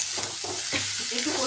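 Fried potatoes stirred into a spice masala in a frying pan for a rupchanda fish curry: rhythmic spatula scrapes over a constant close sizzle, with no one speaking.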